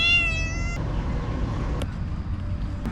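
A cat gives one short, rising meow close by, then low room hum and faint background noise continue.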